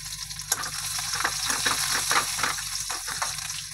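Onion frying in hot oil in a pan, a steady close sizzle with bubbling crackle running the whole time.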